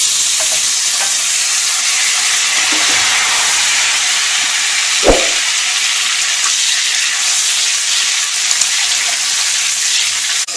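Chopped tomatoes fry in oil in a pan for a leafy-greens biryani, giving a steady, close sizzle with a single sharp scrape of a spoon stirring midway.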